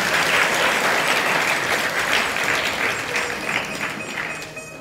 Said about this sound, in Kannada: ಅವರ ಹೆಸರಲ್ಲಿ ಒಂದಿಟ್ಟು ಜೋರಾಗಿ ಚಪ್ಪಾಳೆ ಮತ್ತೊಂದು ತಟ್ರಿ